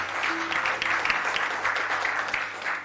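A church congregation at an anniversary service applauds, steady dense clapping with a few sharper claps standing out, filling the room.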